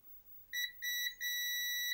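Multimeter continuity test on a BBC Micro circuit board, giving a shrill electronic beep in three bursts, two short ones and then a sustained tone, close and clear over quiet.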